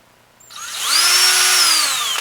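A power drill spins up and bores into wood while building a SnapBow, a rising whine that settles into a steady high pitched drone for over a second before cutting off.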